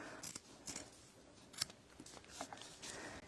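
Scissors snip through the hemmed edge of a canvas drop cloth in a series of quiet, close crisp cuts, several clean snips spaced irregularly.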